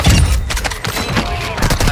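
Rapid gunfire bursts in the online shooter Call of Duty Warzone 2.0 hit loud and close, dense overlapping shots with heavy low thumps throughout, while a player talks over the action.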